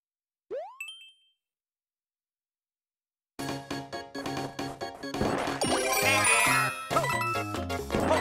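A single bright bell-like chime rings out in the endless runner game, a quick rising ding that fades within half a second, followed by silence and then busy game music and effects.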